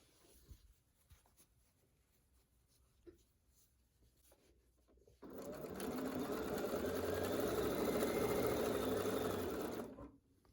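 Sewing machine stitching binding onto the back of a quilt, quiet handling for about five seconds, then a steady loud motor whir running continuously for roughly five seconds before stopping.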